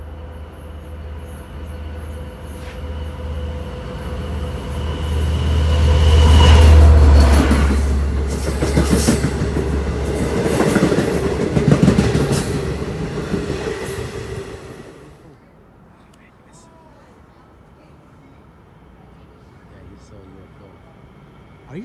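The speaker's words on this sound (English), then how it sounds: "Diesel train." A LIRR or Metro-North diesel train rumbles past close by, its low engine roar swelling to a peak and then fading away, leaving quiet background noise.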